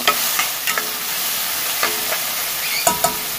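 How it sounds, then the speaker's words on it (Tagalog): Garlic, onion and ginger sautéing in cooking oil, a steady close sizzle with occasional clinks and scrapes of a utensil stirring through the pan, no talk. "Ayan, medyo nagisa na ang ating bawang sibuyas, luya."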